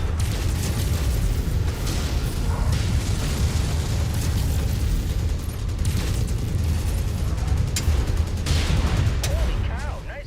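Explosions and weapon fire rumble almost without pause through a mech combat game, a dense, loud roar with sharper bursts, while someone talks over the battle.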